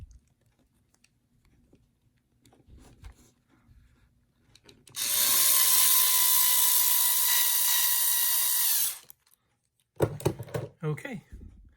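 An electric screwdriver drives a ball stud into a Tamiya TT-02 Type SR RC chassis steering assembly, one steady whirring run of about four seconds, close and loud, with brief handling clicks and quiet talk before and after.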